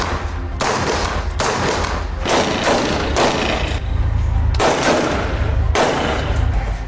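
Gunfire from IDF troops in Lebanon comes as loud, dense bursts, about six in a row, each lasting a second or so with brief gaps between them. No voices are heard.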